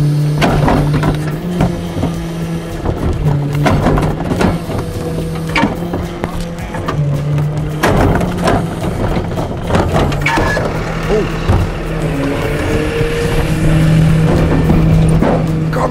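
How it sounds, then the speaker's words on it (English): A garbage truck's compactor runs loud and close, a steady mechanical engine drone with repeated knocks, clanks and hydraulic whines as it compacts trash. "this is the acceleration button, which speeds up the compactor"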